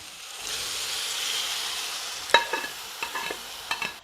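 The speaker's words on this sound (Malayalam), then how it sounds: "ഇനി നമ്മൾ അതിലേക്ക് നമ്മുടെ വേവിച്ച് വെച്ചിരിക്കുന്ന ബീഫില്ലേ അതങ്ങ് തട്ടി കൊടുക്കാം" Cooked beef is tipped into a softened tomato masala in a pan and stirred, giving a steady soft sizzle with a few brief scraping stir strokes near the end, close and fairly quiet.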